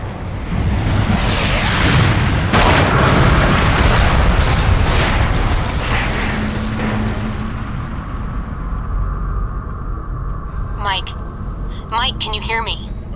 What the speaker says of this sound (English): I'm tracking multiple missiles homing in on your coordinates.